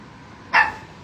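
A pet dog lets out a single short, sharp bark, close and fairly loud, over a quiet steady background hum.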